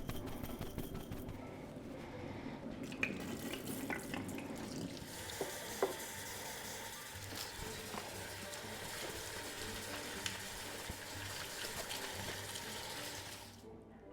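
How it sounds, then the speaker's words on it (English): Water running into a bottle holding a little rice and a drop of dish soap for cleaning, a steady close splashing and gurgling fill that continues for several seconds and stops abruptly at the end. "Fill it with water and shake."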